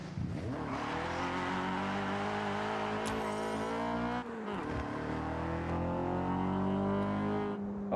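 A Honda Prelude engine revs in the Forza Horizon racing game, a sustained buzzing drone that holds steady, dips for a gear change around midway, then climbs again, loud and close.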